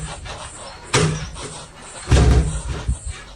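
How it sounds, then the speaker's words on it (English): A door bumping shut twice, with a soft creak and rattle between the two heavier knocks, fairly close. "The door creaked open and shut on its own."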